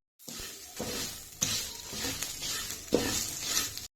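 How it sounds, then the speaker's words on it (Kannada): Curry leaves and Byadgi chillies frying on a low flame, with soft sizzling and several distinct scrapes of a spoon stirring the pan, close and clear with no talk. "ಲೋ ಫ್ಲೇಮಲ್ಲೇನೆ ಫ್ರೈ ಮಾಡ್ಕೋಬೇಕು ಸ್ವಲ್ಪ ಹೊತ್ತು"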